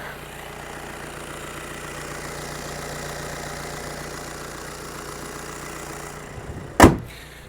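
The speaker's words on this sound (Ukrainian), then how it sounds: "Двигун працює гарно, рівнесенько, без будь-яких нарікань." A Volkswagen Passat engine idles evenly with a steady low hum, then a sharp thump near the end like a door or hood closing.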